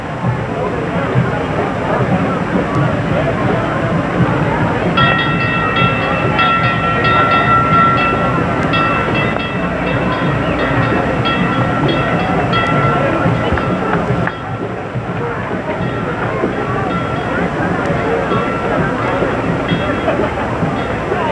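Railroad cars rolling past in a street parade in Cumberland, with a steady rumble and a band of bright tonal ringing from about the fifth to the fourteenth second, heard over constant crowd noise.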